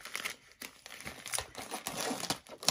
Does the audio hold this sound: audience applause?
no